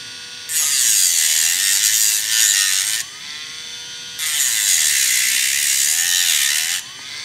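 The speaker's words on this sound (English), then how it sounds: "we'll crank the Dremel down a bit just to get a little bit slower speed" A Dremel rotary tool turned down to slow speed grinds out a pin in two long, loud, high whining bursts with a pitch that wavers as it bites, and a quieter idle hum between them.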